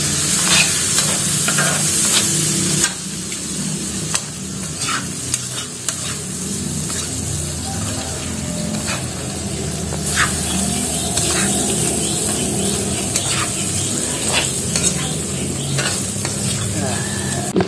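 Chilies fry in hot oil in a pan while being stirred, a continuous loud sizzle broken by repeated scraping strokes of the spoon, with no talk.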